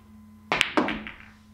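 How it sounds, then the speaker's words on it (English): A J Flowers pool cue strikes a billiard ball in a test stroke shot, a sharp close knock followed quickly by a second softer clack that fades out. "So I like to test the hit, the feel of the cue by doing some stroke shots with it."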